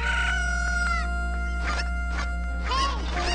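Cucco chickens from the Ocarina of Time video game crowing and crying in loud, close rooster-like calls that repeat in short bursts over a steady game background hum.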